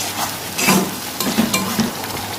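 Onions with ginger-garlic paste stir-fried in a pan, a low sizzle under repeated scraping stirs, several distinct strokes close by.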